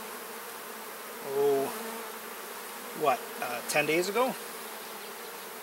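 Honey bees hum steadily while two new hives are opened for inspection. A few louder buzzes swell as single bees fly close, and a person speaks briefly.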